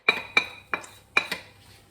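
Whole cumin and fenugreek seeds stirred in a pot with a metal spoon, making a few sharp clinks and scrapes against the pot in an uneven rhythm, close and fairly quiet.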